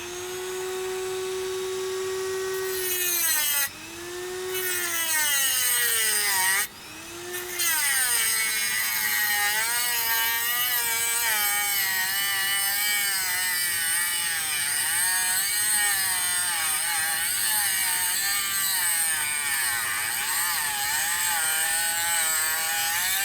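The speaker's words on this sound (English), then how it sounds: "we're going to open this V up in order to accept our little sanding drum here." A high-pitched Dremel rotary tool whines steadily while grinding, its pitch dipping and wavering as the sanding drum bites into a metal port on a Kirst converter, with two brief harsh bursts early on.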